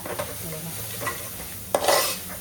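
Crab curry masala stirred in a sizzling pan, soft scraping strokes over a low frying hiss with a louder metallic scrape near the end, close by and without talk.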